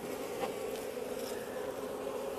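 Honeybees on a hive frame, a steady close buzzing hum of many bees holding evenly through the short stretch, with no voices.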